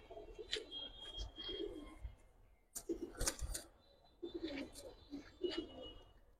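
Deep blue eyed pigeons cooing close by in a series of soft, throaty calls, with a gap partway through and occasional thin chirps; quiet overall, no talking.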